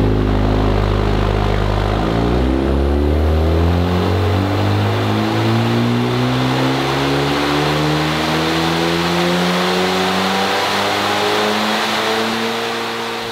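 A Honda FL5 and DE5 run hard on a dyno, one steady loud engine howl climbing in pitch after a low idle for the first two seconds, then rising smoothly through the revs for about eleven seconds without a break.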